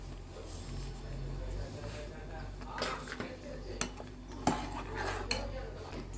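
A spoon stirs mango kulfi milk mixture in a metal pan, with repeated close scraping and light clinks against the pan over a low steady hum; no one speaks.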